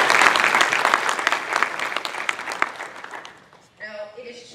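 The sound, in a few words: audience applause for students at awards program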